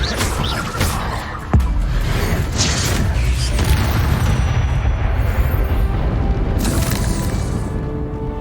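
In the Hogwarts Legacy video game, the Incendio fire spell bursts out with a sudden sharp crack, then a loud roaring, rumbling blaze of fire and crackle that swells and fades over several seconds, along with scattered game effects.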